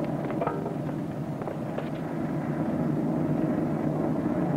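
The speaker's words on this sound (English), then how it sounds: "Look at those F-6Fs." Grumman F6F fighter airplanes fly past as a steady, continuous engine drone, fairly loud with a broad rumbling texture and a few faint clicks, no voices.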